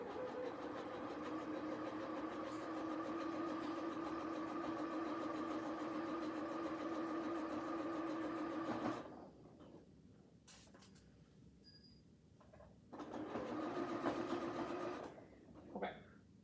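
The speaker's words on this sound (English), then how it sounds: "I'm going to set my presser foot back down and continue sewing" A sewing machine stitches a pillow cover in a fast, steady whirring run for about nine seconds, stops, then resumes in short bursts, fairly faint and with no talk.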